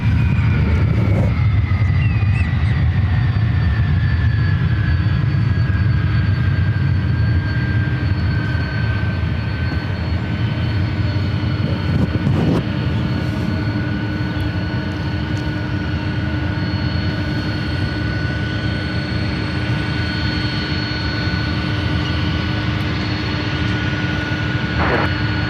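A Boeing 767-300ER jet airliner departs San Francisco airport bound for JFK, its engines a loud, sustained roar with a slowly falling whine as it passes, steady and broad, continuing for the full stretch without any voices.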